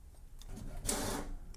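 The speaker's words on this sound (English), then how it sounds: "This is the document we just printed." An HP Smart Tank 5101 printer prints a document, whirring mechanically with a short, louder burst of feeding and rolling noise partway through.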